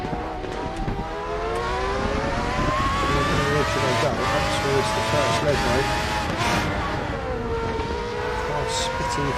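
Race car engine of an FR X-90 at Monza in a racing video game, a steady high revving drone with gear-shift changes, heard under a commentator's voice.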